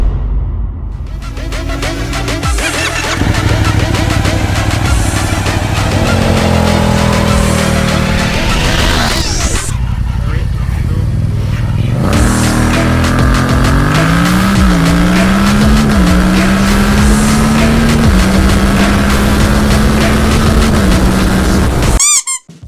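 A Yamaha MT-07 (FZ-07) and a Suzuki SV650 accelerate hard one after the other, each engine rising steadily in pitch through several gear changes, loud and close, with a brief quiet gap between runs.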